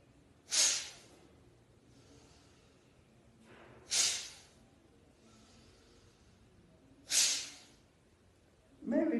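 Three deep, forceful exhalations during a shoulder stress-release exercise, evenly spaced about three seconds apart, each a breathy rush of air close to the mic, with a fourth starting at the end over quiet room tone.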